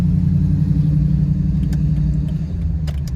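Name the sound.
2003 Jeep Wrangler Rubicon driving out on the road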